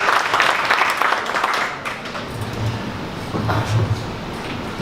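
An audience at a Dallas startup pitch event applauds a presenter named Ben, giving a dense, sustained round of clapping that fills the room before it slowly thins out.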